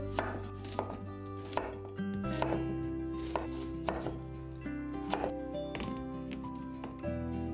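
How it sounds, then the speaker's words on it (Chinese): A knife roll-cuts peeled carrots into chunks on a cutting board while preparing spicy Korean Andong braised chicken, giving a steady run of crisp, evenly spaced chops over soft background music. "红萝卜削皮后也滚刀切成块"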